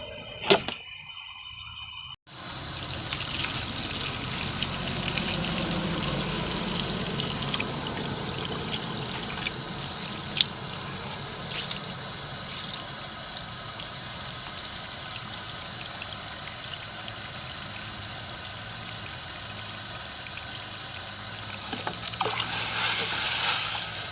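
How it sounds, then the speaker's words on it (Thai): Mung beans being washed in a bucket of water for growing bean sprouts: a loud, steady gushing and rushing of water that runs continuously for over twenty seconds after a brief rustle at the start. "เมื่อกี้เราก็ล้างถั่วกันเรียบร้อยเนาะ"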